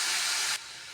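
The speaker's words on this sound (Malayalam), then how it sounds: "പുളിവെള്ളം ഒഴിച്ച് കൊടുക്കാം." Tamarind water hitting a hot pan of ginger curry: a loud burst of hissing steam and sizzle that cuts off sharply halfway through, leaving a softer steady hiss.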